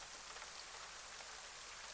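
Rain falling outside, a steady dense patter of drops on a surface, soft and even throughout with no voices.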